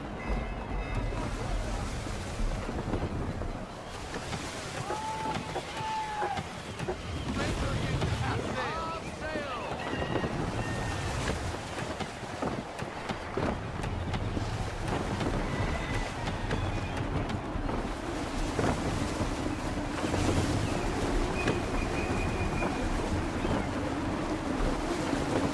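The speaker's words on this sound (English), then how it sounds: "Try her at full sail. Wind looks to be shifting. Stay alert, Connor. Gusty winds can be difficult to manage." A sailing ship in Assassin's Creed 3 runs at full sail through gusty wind, a constant roaring rush of wind and water with creaking timbers beneath, while voices talk over it now and then.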